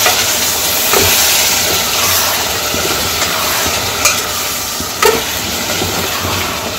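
Jackfruit pieces and spices are stirred and sautéed in a hot pan, giving a loud, steady sizzle with scraping spoon strokes and a few sharp clinks, with no voices.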